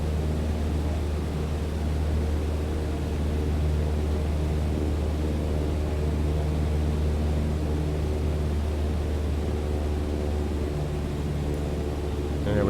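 A steady, droning aircraft engine in Microsoft Flight Simulator, a constant broadband roar with a low hum that holds evenly throughout at moderate level, with no other sounds.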